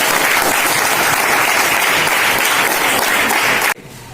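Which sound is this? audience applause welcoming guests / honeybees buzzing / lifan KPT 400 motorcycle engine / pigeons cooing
audience applause welcoming guests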